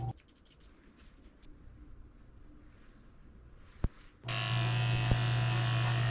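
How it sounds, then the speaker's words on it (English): An electric clipper with a 15 blade shaving the fur around the eyes of a Cavalier King Charles Spaniel, heard as faint scraping that gives way to a loud, steady close-up motor buzz after a sharp click. "I'm shaving the corners of his eyes out very carefully with a 15 blade."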